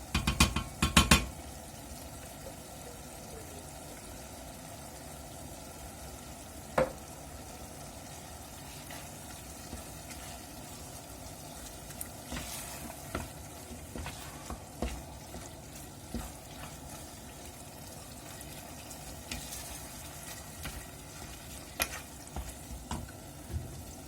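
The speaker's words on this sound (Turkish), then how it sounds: "Artık kıymalarımız da kavruldu. Şimdi de bir buçuk yemek kaşığı aşağı yukarı biber salçası ilave ediyoruz." Minced meat with pepper paste fries in a pan, a faint steady sizzle with occasional soft stirring knocks and a clatter near the start, heard alone.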